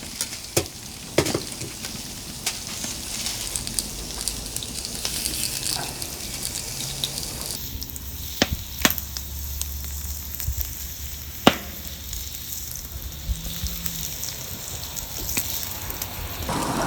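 Steak and pork sizzle on a Solo Stove cast iron wood fire grill, a steady, fairly quiet hiss of frying broken by scattered crackles and pops, with no talking.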